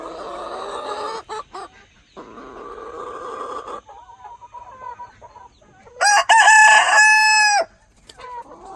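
Barred Rock hens cluck and call close by in short bursts, with a louder, sustained crow-like squawk partway through, between quieter gaps.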